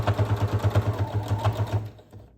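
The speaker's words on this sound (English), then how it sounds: "Then we're going to sew this side closed, 1/4 inch seam close to the edge." Sewing machine stitching a quarter-inch seam on a snap bag, a close, even rhythmic thumping of about a dozen stitches that slows and stops.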